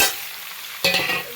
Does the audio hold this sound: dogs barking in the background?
no